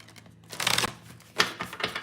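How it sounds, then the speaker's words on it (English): A deck of cards shuffled by hand, two quick riffling bursts of crisp paper flutter about a second apart followed by softer trailing flicks, close and dry with no talking. "I'm gonna give it another shuffle like this"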